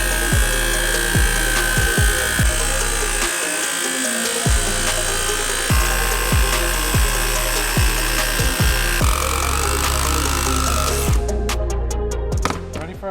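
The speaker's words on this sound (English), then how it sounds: "I actually like this blade. It's a bit coarse, but it doesn't make a bunch of like aluminum dust because it's so coarse." Power saw fitted with a coarse blade cutting an aluminum firewall panel for a Datsun, running continuously with a steady rhythmic chatter of teeth through the sheet metal, loud and close, with no talk over it.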